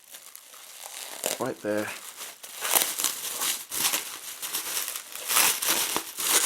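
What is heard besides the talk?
unwrapping the lid of a Denby china butter dish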